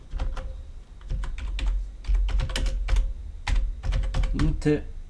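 Fast, continuous typing on a secondhand computer keyboard salvaged from the trash, with dense, loud, close-up key clatter that runs throughout.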